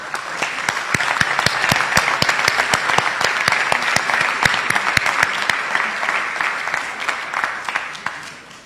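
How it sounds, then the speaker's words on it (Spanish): An audience applauds steadily and firmly throughout a state congress ceremony honouring older adults, the dense clapping sounding close and even. Faint voices sit underneath. "Para ellos pido por favor un fuerte aplauso"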